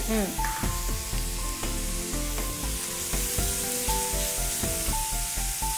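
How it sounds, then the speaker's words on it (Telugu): Chopped ginger and garlic sauté in hot oil in a pan, a loud, steady close sizzle with occasional stirring scrapes, while faint tonal sounds run underneath. "కొద్దిగా సాతే చేసుకుందాం"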